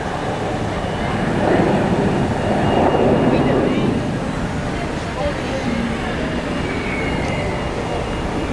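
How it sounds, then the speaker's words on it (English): A CRJ jet takes off from Zurich Airport, a broad distant engine roar swelling and fading while people talk nearby on the observation deck. "The CRJ taking off there, we saw taxiing earlier."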